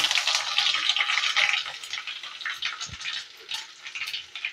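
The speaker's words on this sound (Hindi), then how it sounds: "अब इसमें हम ये 2 चम्मच राई दाना डालेंगे, पीली राई हमें लेना है, सरसों, और ये ढेर सारा सूखा हुआ कड़ी पत्ता लेना है" Yellow mustard seeds and a large handful of dried curry leaves sizzle and crackle in hot oil for an apple pickle, a steady close frying hiss that fades slightly toward the end.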